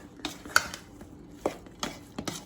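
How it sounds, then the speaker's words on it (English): Tempeh hash with seasoning being stirred in a pan, a run of sharp utensil clacks and scrapes arriving in irregular bursts, close and fairly loud with no voices. "I'm just gonna stir this up"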